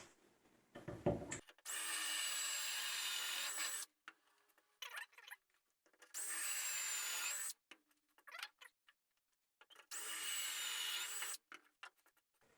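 A Wolfcraft 4640000 doweling jig guides a power drill boring dowel holes into wood, three separate bursts of high whining drilling of about two seconds each, with quiet handling clicks and pauses between them.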